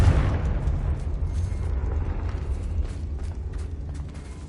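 A Confringo spell explosion in Hogwarts Legacy on PS5, opening with a strong blast that settles into a rumbling, crackling fiery roar and slowly fades over several seconds.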